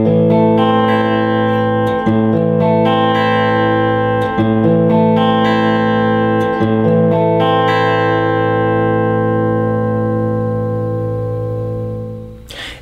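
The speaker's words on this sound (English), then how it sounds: "making a chord shape with your fretting hand and playing each string individually, allowing the string you just played to continue to ring," Guitar chord arpeggiated one string at a time with each string left to ring, a steady picked pattern of overlapping notes that blend together and then decay over the last few seconds, without any speech.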